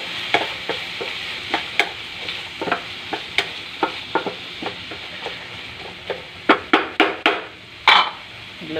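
Food frying in a pan for a Filipino tinapa and eggplant omelette dish is stirred with a utensil, sharp scraping clacks landing irregularly over a soft sizzle, growing louder and more rapid near the end.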